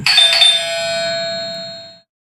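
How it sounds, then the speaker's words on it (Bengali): A doorbell rings once in an audio story, a bright electronic chime whose tone holds and slowly fades out over about two seconds, heard alone with no talk. "হঠাৎ দরজায় কলিং বেলটা বেজে উঠল।"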